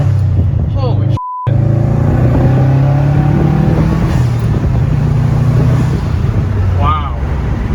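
Subaru WRX STI fitted with a new catted downpipe and air oil separator, accelerating on a test drive: a steady engine rumble and rising revs, heard from inside the car, with a brief dropout and people talking over it.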